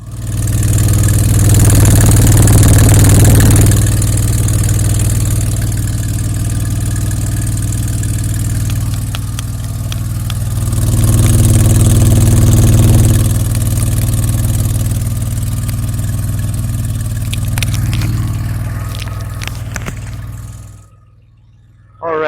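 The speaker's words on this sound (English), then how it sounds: "And then down to the exhaust." The exhaust of a 1983 DeLorean DMC-12 V6 rumbles at a steady idle with a couple of mild swells in level, close and loud, before cutting off abruptly near the end.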